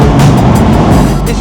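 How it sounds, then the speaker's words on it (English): A Porsche 4-litre engine's exhaust roars loud and close in a brief, continuous burst with the valves open. "This really is one of the sweetest sounding engines I think Porsche have made"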